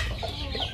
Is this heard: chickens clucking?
yes